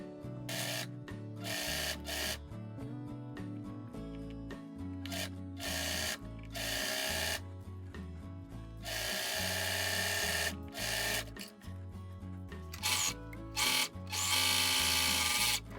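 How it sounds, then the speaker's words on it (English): A sewing machine and a serger stitch dress back panels together in loud, close whirring runs that start and stop again and again, with short pauses between bursts. "So I'm going to sew these together and then serge that seam shut"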